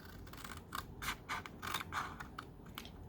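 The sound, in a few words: scissors cutting paper card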